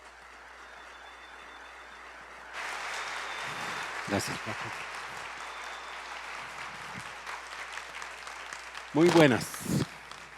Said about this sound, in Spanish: Recibámoslo con un cariñoso aplauso.